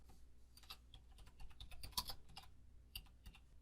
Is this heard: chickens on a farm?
no